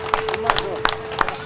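Scattered hand claps from an outdoor crowd at an Italian agricultural open day, sharp individual claps spaced apart over a steady tonal hum and light murmur.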